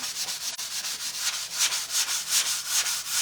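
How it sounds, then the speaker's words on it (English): Sandpaper rubs back and forth across a wooden plaque with a paper-covered face, making quick, even, rhythmic scratchy strokes that are close and fairly soft, with no voices. "let me give this just a little bit of sanding"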